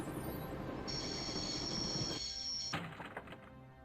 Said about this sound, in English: wanted to stop a train